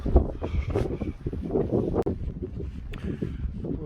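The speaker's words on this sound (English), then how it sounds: "So yeah, the wind's picked up, the temperature has dropped." Wind buffets a Lanshan tent in cold, wet, icy conditions with gusts of about 20–25 mph, a steady roaring rush that swells and eases continuously, with no speech.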